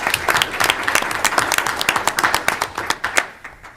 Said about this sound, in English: I'm just going to clap for the administration